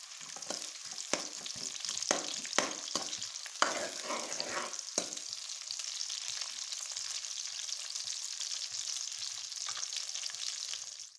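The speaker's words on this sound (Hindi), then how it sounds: "प्याज की गोल्डन सुनहरी होने तक हम पकाएंगे प्याज।" Chopped onions frying and being stirred in a pan until golden while cooking matar aloo, a steady crackling sizzle with intermittent scraping stir sounds, close and continuous throughout.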